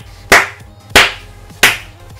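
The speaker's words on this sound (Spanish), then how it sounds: "Vamos a aplaudir un poco." Three slow, loud, isolated hand claps ring out close by, evenly spaced about two-thirds of a second apart, as a player reacts to a FIFA 18 Bayern career-mode match. Nobody speaks.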